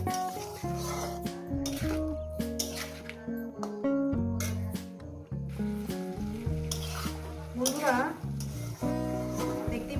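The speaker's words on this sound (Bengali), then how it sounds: "এটাকে আমি সুন্দর করে কষিয়ে নেবো দু তিন মিনিট ধরে" Fish curry with vegetables and spices being sautéed in a pan, with steady sizzling and stirring clinks under someone speaking throughout.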